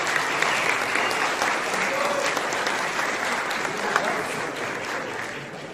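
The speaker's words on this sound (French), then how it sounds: "On peut applaudir Ron," A festival audience applauds a film producer before a screening, with steady, moderately loud clapping that holds evenly for several seconds.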